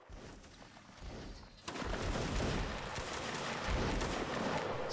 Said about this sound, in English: These cannons scare me.